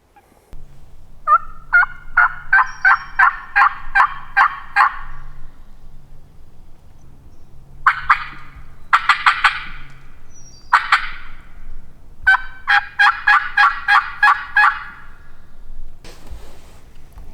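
Wild turkeys gobble on Wisconsin public land during a spring hunt, with several rapid, rattling gobble bursts in clusters separated by pauses. The calls sound moderately close against a quiet background.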